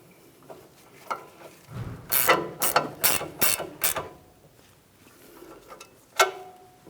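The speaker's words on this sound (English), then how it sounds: "I'm going to be torquing this to 76 foot-pounds." A torque wrench ratchets on the front strut mounting nut of a Ford Transit 250 van: a quick close burst of about six sharp clicks, then a single click after a short pause.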